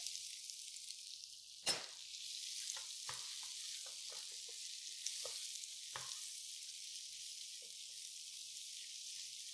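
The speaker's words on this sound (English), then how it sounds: "So we're going to saute these down so that they're nice and soft." Vegetables sauté in olive oil in a pan, a steady close sizzle with a few clinks of a utensil stirring. No one speaks over it.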